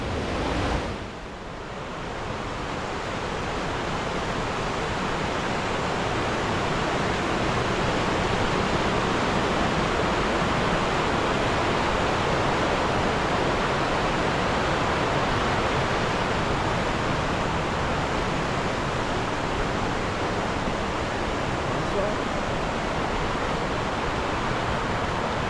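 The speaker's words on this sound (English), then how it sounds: "Can't wait till we pass the rapids." Loud, steady rushing of river rapids at Watersmeet, a dense broadband roar of churning water that holds constant and close throughout, with no speech.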